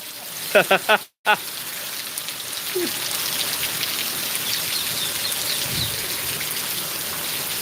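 Heavy rain pours steadily in Gujarat, a constant loud hiss that runs on alone after a few brief voice sounds at the start.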